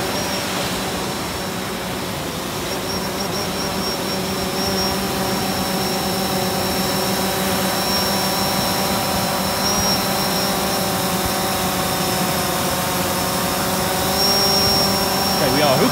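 DJI Phantom drone flies backwards with a heavy shark bait hanging below while fishing, giving a steady, close, high-pitched propeller whine that holds constant and swells slightly near the end.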